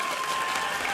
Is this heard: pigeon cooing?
no